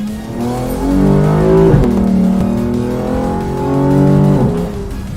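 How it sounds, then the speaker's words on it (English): Toyota Supra engine revving up and dropping as it downshifts twice, with loud rising and falling pitch sweeps and a sharp blip at each shift, heard close and without any talk. "You can downshift here"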